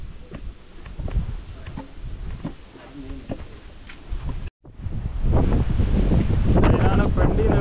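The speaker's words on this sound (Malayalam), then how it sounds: "നല്ല കാറ്റുണ്ട്." Strong wind buffets the microphone at a ninth-century Jain monument on a hilltop, with heavy rumbling gusts that grow louder in the second half, and a person speaks briefly beneath it.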